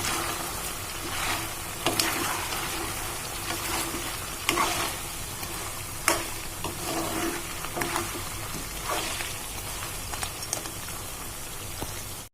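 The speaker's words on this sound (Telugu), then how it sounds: "మన చికెన్ ముక్కలు అయితే బాగా ఎర్రగా వేగినాయండి" Chicken pieces fry for a spicy chicken pickle, crackling and sizzling steadily in a pan close by, with several scraping knocks of a spoon as they are stirred and no talking.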